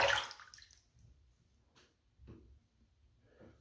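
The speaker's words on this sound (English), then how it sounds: "if it does gunk up the blade, you can just loosen it and then shake it in the water" A butterfly-style adjustable safety razor is shaken and rinsed in a sink of water: a faint splash at the start, then a few soft, scattered drips and sloshes in a quiet room.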